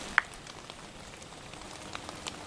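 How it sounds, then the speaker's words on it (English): Meltwater dripping from trees in a woodland during light snowfall, scattered soft patters and one sharper nearby drop over a quiet outdoor background. "What you're hearing is the water from the trees falling."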